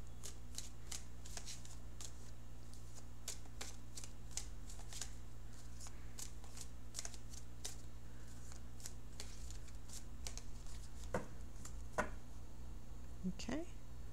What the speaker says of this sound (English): So I'll shuffle the cards for a few more seconds.